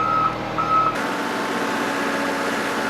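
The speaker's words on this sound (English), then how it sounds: "And the dozer spreads it, and the grader smooths it out." A dozer and grader on an airfield construction site sound two steady reversing beeps over the loud drone of heavy machinery, which continues alone after the beeping stops.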